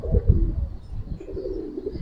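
Pigeons of a Bagha and silver giribaj collection coo in low, throaty rolling calls, close by and continuous, with no voices.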